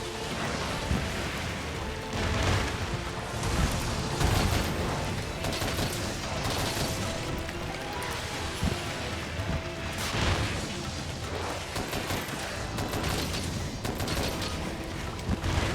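Rapid-fire bowgun in Monster Hunter Rise: Sunbreak with a Pumped Up Normal 2 rapid-fire build, firing in repeated bursts of quick shots and impacts, fairly quiet and steady throughout.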